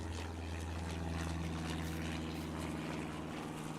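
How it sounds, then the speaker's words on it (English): Propeller airplane droning steadily overhead in Farming Simulator 22 on an Iowa farm map, a continuous low engine hum with a strong tonal buzz that holds level throughout, no voices. "Hard to sleep around here with that damn plane flying overhead all the time."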